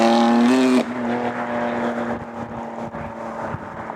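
A 2019 BMW M2 Competition with a seven-speed dual-clutch gearbox drives at speed, the engine note holding high, then dropping sharply with a quick gear shift before its muffled drone continues.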